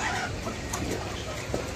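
Chickens on a duck and poultry farm cluck in short, close, moderately loud bursts over a brief stretch, with no speech.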